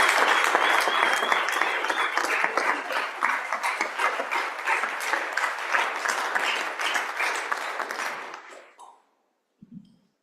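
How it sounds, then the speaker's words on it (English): Sustained applause fills the Senate chamber, a dense patter of many hands clapping loudly for about eight seconds before fading out, followed by a faint brief sound near the end. "One more round of applause."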